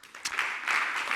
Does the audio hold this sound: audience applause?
yes